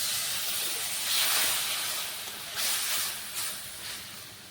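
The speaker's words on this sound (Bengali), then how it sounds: "আর একটু অল্প একটু জল দিয়ে দিচ্ছি।" Ground coriander and red chilli powder with a splash of water hit a hot pan, producing a broad, steady steamy hiss that swells in a few surges and fades, with no voices.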